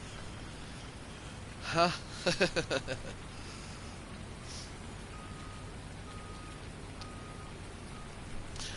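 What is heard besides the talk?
rain falling in the video game Farming Simulator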